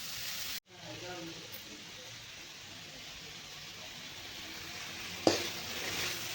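A masala of coconut, onion and tomato roasts in a pan for matar paneer, giving a steady, soft sizzle with faint voices in the background and a brief clink of a utensil near the end.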